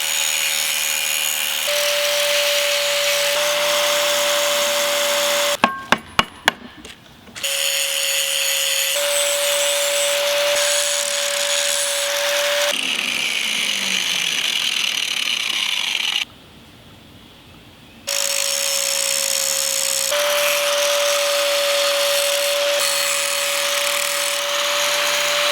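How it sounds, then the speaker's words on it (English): An angle grinder works on hand-forged steel fish hooks, cleaning up barbs and eyelets in long, steady, loud passes. Brief sharp scrapes and a couple of short pauses break the grinding. "So I need to take an angle grinder and a file, clean up the barbs and the eyelets."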